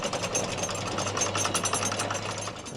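A sailboat's engine runs while the anchor is raised on a morning cruise, a steady close mechanical rattle and thrum with a low hum underneath throughout.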